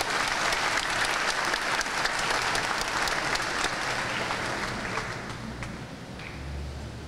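A parish gathering applauds its priest with a full, sustained round of clapping that gradually thins and softens toward the end.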